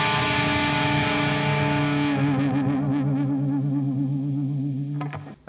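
A final electric guitar octave chord rings out heavily effected and distorted with chorus-like shimmer, sustaining for several seconds while a slight whammy bar wiggle adds a gentle pitch waver before it cuts off.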